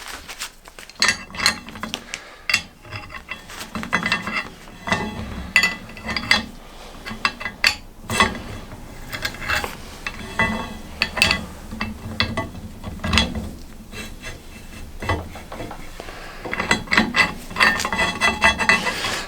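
An adjustable reamer works through the swingarm bushes of a Triumph Bonneville T1, making repeated close metallic scraping and rasping strokes with clinks of metal on metal, steady and busy throughout.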